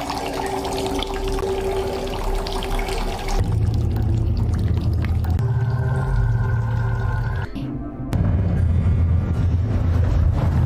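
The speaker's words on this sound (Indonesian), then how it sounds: "tiba-tiba mendengar suara keran mengalir deras" A bathroom tap runs hard, a steady pouring rush of water that fills the scene, with the flow shifting in strength partway through and a brief break near the end before it resumes.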